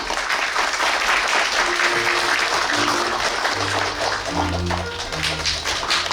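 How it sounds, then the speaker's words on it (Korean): A crowd at a book launch event applauds to welcome the featured speaker, steady dense clapping throughout with low musical tones rising underneath toward the end. "큰 박수로 오늘의 주인공 맞아주십시오."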